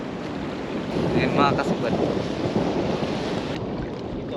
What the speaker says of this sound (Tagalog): malalim na tapos malakas yung alon